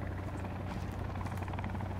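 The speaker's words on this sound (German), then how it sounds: "Okay, die steigen alle in den Helikopter." Helicopter in the survival-horror game Sons of the Forest, heard at night as everyone boards: a steady, loud rotor thrum with low chopping pulses and engine whine, continuous and close, with no voices.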